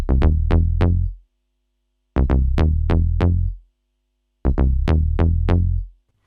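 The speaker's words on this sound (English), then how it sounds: "one of the most famous sounds on this module, and probably one that people would just buy this module just for this one sound, is the lately bass" A Yamaha TX81Z four-operator FM synth playing its Lately Bass patch: three quick phrases of four punchy, plucky bass notes, each decaying fast, with short pauses between, loud and alone.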